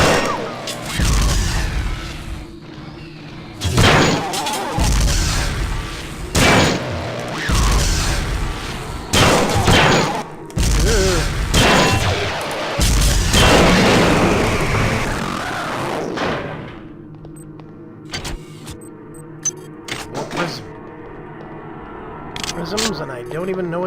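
Explosions go off in the video game System Shock 2 as a series of loud, sharp blasts in rapid clusters, each with a heavy booming crack, followed by a quieter stretch of faint clicks and hum.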